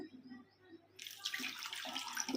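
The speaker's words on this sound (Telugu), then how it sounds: "కొంచెం వాటర్ వేసుకుందాం" Water pours steadily into a pressure cooker holding two raw mangoes after a brief quiet start, a close, continuous splashing rush.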